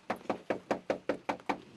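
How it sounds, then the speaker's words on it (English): Eight evenly spaced knuckle knocks land on the door of a house used as a small home business, crisp and close with nothing else heard. "We knock on the door, but no answer."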